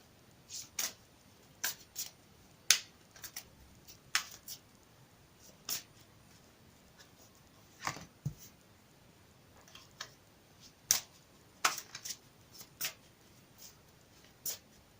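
A deck of tarot cards is shuffled by hand in a quiet room, producing a series of short, crisp riffling snaps at irregular intervals.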